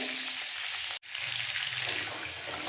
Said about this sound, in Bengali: এবার এই মাছ ভাজার তেলের মধ্যে ফোড়ন দিচ্ছি খুব সামান্য গোটা সাদা জিরে